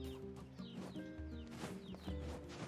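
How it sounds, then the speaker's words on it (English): Chicken clucks and squawks in the Nier Replicant video game, a busy run of short calls over a steady backdrop of game music, with no talking. "Mrs. Chicken, is it you?"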